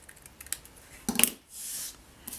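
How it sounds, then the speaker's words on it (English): Scissors snip through a small piece of cardstock during a paper craft project, a few quiet clicks followed by a sharp, bright cut and a short sliding rasp. "and then I'm going to trim off this little piece here."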